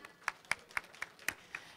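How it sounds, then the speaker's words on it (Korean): Audience clapping follows a live performance at a 2008 newspaper 20th-anniversary reception: about seven evenly spaced, faint claps, sparse and distant rather than a full ovation. "다시 한번 뜨거운 박수 부탁드립니다"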